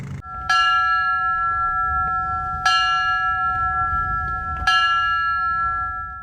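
A church bell in Ocean City strikes three times at roughly two-second intervals for a September 11 remembrance, each clang leaving a long, sustained ringing hum.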